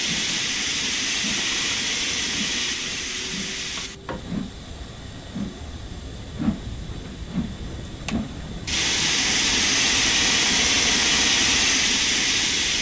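A steam locomotive in Train Sim World vents steam through its open cylinder cocks, a loud, broad hiss that drops away for several seconds into a quieter rhythmic chuffing and clanking, then surges back to a full, steady roar.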